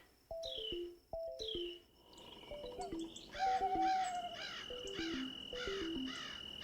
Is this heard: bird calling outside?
yes